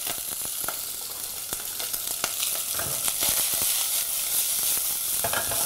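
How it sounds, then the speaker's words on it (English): Bacon, chopped shallots, red onions and capsicum fry in a pan with a steady, dense sizzle, broken by occasional clicks and stirring scrapes throughout, with no talking. "Then we add the chopped shallots and red onions. We add the capsicum into it."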